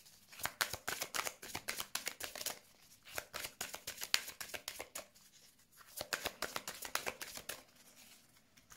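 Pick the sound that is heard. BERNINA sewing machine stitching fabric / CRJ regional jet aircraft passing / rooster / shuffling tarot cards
shuffling tarot cards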